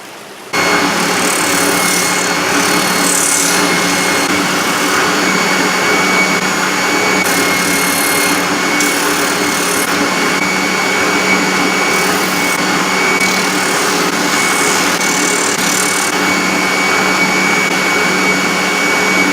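A spindle sander runs loudly and continuously on wood, with a steady high motor whine and a few brief surges as the workpiece is pressed against the drum.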